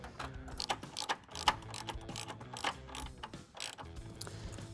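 Close, quick ratchet clicks as nuts are snugged onto a 2003 Ford Mustang GT strut, coming in short bursts of rapid pawl ticking with metallic clinks and brief pauses, and no talking.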